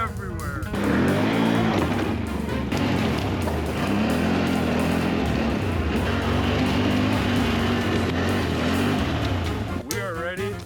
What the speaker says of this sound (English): We are ready to burn off these tires.